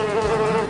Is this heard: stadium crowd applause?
no